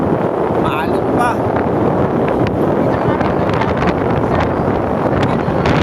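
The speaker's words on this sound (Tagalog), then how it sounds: "Oo, malakas daw ang hangin, sabi ni Kuya." Strong northeast monsoon wind buffets the microphone on the coast near Matnog in the Philippines, a loud continuous rumbling roar, while people talk close by.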